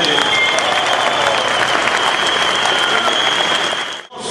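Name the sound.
crowd applause at a union protest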